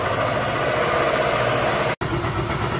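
A Joymax 250 scooter engine idles steadily after a broken clutch was replaced, a continuous close mechanical hum with a rhythmic low throb, interrupted by a brief cut near the end before running on.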